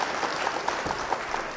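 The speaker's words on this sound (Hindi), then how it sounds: "तालियां कमजोर।" Brief, thin applause from an audience at a Hindi comic poetry gathering, a soft continuous patter of clapping with a few sharper claps poking through.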